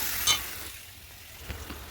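Onion, garlic and tomato fry in a pan with a steady soft sizzle, a brief louder burst near the start and small clinks toward the end, with no voices.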